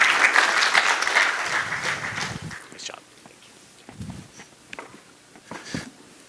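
A keynote audience in Tel Aviv applauds presenters, loud clapping at first that thins and dies away, followed by scattered faint taps and rustles.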